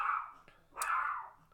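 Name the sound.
dog barking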